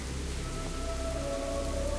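Steady rain falling in World of Warcraft: Cataclysm, a continuous soft hiss of drops with faint tonal ambience running underneath, even and unbroken throughout.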